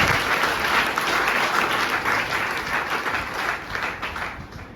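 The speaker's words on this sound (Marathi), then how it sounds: "सर्वप्रथम टाळ्याच्या कडकडाटमध्ये तुमचं स्वागत करायचं आहे. तर सगळ्यांनी टाळ्या." An audience at a college Teachers' Day gathering claps loudly and continuously to welcome newly admitted students, a dense, even applause that tapers slightly at the end.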